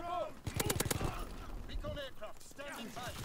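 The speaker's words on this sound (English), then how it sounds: "Oh, he shot in the back again." Call of Duty WWII gameplay gunfire, a rapid string of sharp shots early on followed by scattered reports, under steady talking and game sounds.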